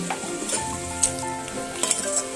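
Spices sizzling and frying in a pan while cooking a vegetarian fig (dumur) dish, a continuous close hiss with occasional stirring scrapes and light clinks of a utensil against the pan.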